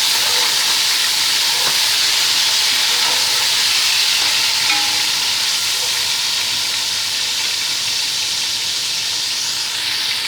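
Loud, steady sizzling and hissing from a hot pot as chopped tomatoes go in, a continuous bright frying roar with no pauses, while cooking biryani.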